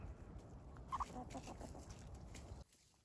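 Chickens cluck softly nearby in a brief burst of low, scattered calls, then the sound cuts off into near silence.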